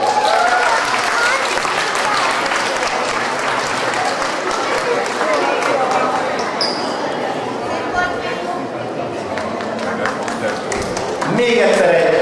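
Sustained, dense applause from a live audience at a school running event honoring prize winners, steady and loud throughout with a brief swell near the end, over faint background chatter.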